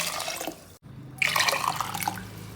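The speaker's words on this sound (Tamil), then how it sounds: "நான் ஒரு ஆறு கப் அளவுக்கு தண்ணி ஊற்றுறேன்" Water pours and splashes into a metal pressure cooker, about six cups for goat leg soup, starting after a brief pause and continuing in a steady gurgling stream.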